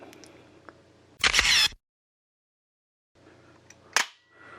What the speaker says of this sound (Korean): 여기 보이시는 세이프티 버튼을 눌러서 발사 모드를 해주신 다음에